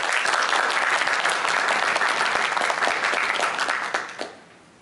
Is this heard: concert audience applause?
yes